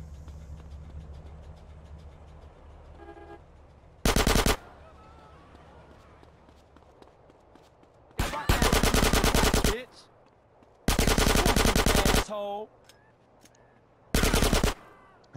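Gunfire in GTA San Andreas Definitive Edition comes as four loud automatic bursts, each lasting about one to one and a half seconds, separated by quieter game ambience and engine hum.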